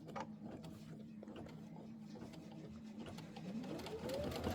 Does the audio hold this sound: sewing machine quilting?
yes